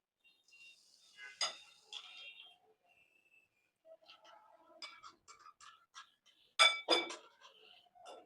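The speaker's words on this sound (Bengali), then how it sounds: "এভাবে ফুটন্ত তেল দিয়ে আমি এটা নেড়ে একসাথে সবগুলো মিশিয়ে নিব।" A spoon stirs chicken momo filling mixed with soy sauce, lemon juice and freshly poured hot oil in a bowl, making close, irregular clinks and scraping taps in short bursts with brief quiet gaps between.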